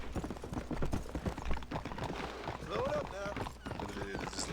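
Video-game horse hooves clip-clop in a steady run under ongoing talk, with a brief neigh-like call partway through.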